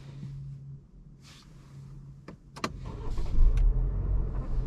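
2023 Cadillac CT4 Sport pulling away onto the road: a quiet cabin with a few sharp clicks, then the engine swells and builds into a steady, louder drone.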